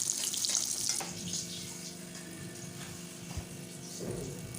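Eggplant pieces frying in a pan of oil, a quiet continuous sizzle and crackle close by, louder hiss at the start that settles into a steady low frying sound.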